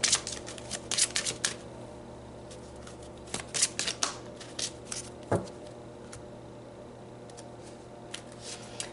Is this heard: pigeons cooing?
no